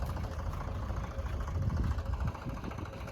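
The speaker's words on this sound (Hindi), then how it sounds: "एक ट्रैक्टर देखो फिर फंस गया लग रहा है" A tractor stuck at a construction site for an animal shelter, its engine running in a steady low rumble with slight surges, moderately loud and continuous, without speech.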